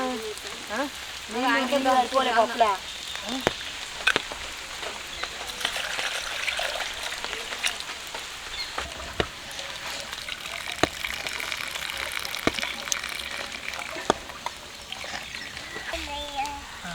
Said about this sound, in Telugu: వర్షం వస్తుంది చలి పెడతాను